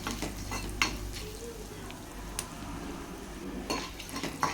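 Whole spices such as pepper, cloves, cardamom, a cinnamon stick and kalpasi frying in oil, a soft sizzle with intermittent clinks of a spoon against the pan, fairly quiet and close.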